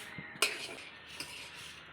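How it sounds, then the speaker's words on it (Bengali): A utensil stirs potatoes and peas in a pan for ghugni, giving a sharp metallic clink followed by soft scraping and a second lighter tap, quiet and close with no talking. "আলু আর মটর দিয়ে দিলাম এবার একটু নেড়ে চেড়ে"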